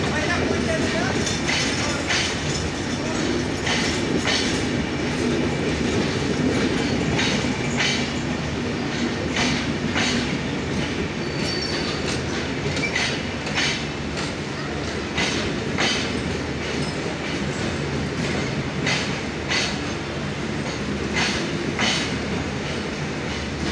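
The Panchagarh Express intercity train rolls past, its wheels beating a steady, rhythmic clickety-clack over the rail joints. The sound carries loud and close for the whole stretch as the long line of coaches goes by.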